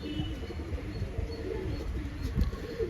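A racing pigeon of an old jungle line cooing softly nearby, low murmured coos under a steady background hum, with no talk.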